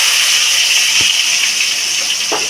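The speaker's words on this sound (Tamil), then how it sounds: "வெங்காயம் போட்டு வதக்க போகிறேன்." Onions sizzle in hot oil with fennel seeds in a home kitchen pan, a loud, steady hiss with a couple of brief clinks, no voices over it.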